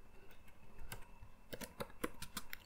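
Scattered computer keystrokes, a few isolated taps followed by a quicker burst of clicks, recorded close and fairly quiet with no talking.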